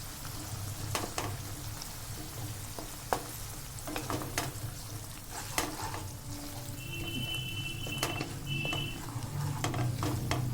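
Ginger paste stirred into onions frying in a pan for a Bengali chicken curry: a steady sizzle with repeated sharp scrapes and clinks of a spatula against the pan, no talking.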